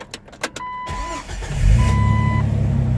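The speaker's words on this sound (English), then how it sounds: "Let me start up the car." A 2006 Jeep Wrangler LJ with the 4.0 inline-six cranks briefly and catches, then settles into a steady, loud idle close by, with no talking.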